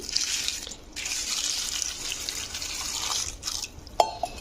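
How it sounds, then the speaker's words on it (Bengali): Water pours steadily into a bowl of puffed rice, a continuous close hiss and splash lasting several seconds with a couple of brief dips and a small clink near the end. "এবারে মুড়ির মধ্যে আমি জল দিয়ে দিচ্ছি"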